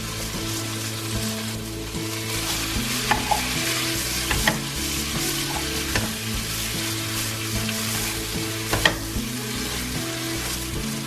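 Potatoes and chilies fry in a pan for an Indian cabbage and potato curry, giving a continuous close sizzle with scattered stirring scrapes and clinks and no talking.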